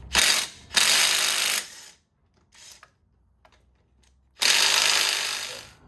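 Loud ratchet wrench fitted with a 19 mm socket working a wheel off a Honda Acty kei van, heard as two long buzzing clicking bursts near the start, a few faint clicks, then another long run at the end.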